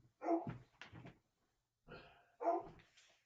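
A dog barks in two separate bursts, with whimpering mixed in. It is fairly close and moderately loud, with a short quiet gap between the bursts and no talk over it.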